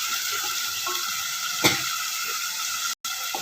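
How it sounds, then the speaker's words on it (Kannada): Steady oil sizzle from a pan while sautéing for a green vegetable pulao, with a brief louder crackle and a short dropout near the end; no one speaks. "ಎಣ್ಣೆ ಒಳಗೆ ಚೆನ್ನಾಗಿ ಬಾಡಿಸ್ಕೋಬೇಕು"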